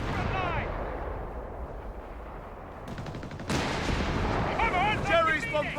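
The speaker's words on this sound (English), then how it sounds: "Jerry's bombarding our lines" Artillery shells pound the lines in the video game Company of Heroes 3, a loud, continuous barrage of booming blasts and rumbling gunfire, with a brief voice near the end.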